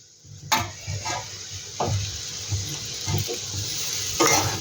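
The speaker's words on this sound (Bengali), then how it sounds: "ম্যাগিটাকে আমি ভালো করে নেড়ে নেব" Egg Maggi noodles are stirred in a hot pan, a soft sizzle under a series of distinct scraping spoon strokes at an uneven rhythm, close and fairly quiet.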